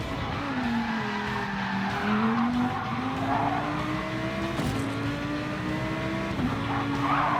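A race car spins out on track after a deliberate pit maneuver, tires squealing and skidding in long rising and falling screeches over steady loud engine noise for the whole stretch.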